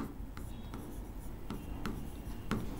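Pen or chalk strokes of handwriting during a chemistry lesson, a few short scratchy marks spaced about half a second apart over a steady low room hum.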